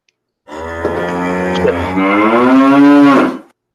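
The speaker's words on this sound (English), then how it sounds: "Calf, a cow." A single cow gives one loud, close moo that starts low and rises, lasting about three seconds before stopping abruptly.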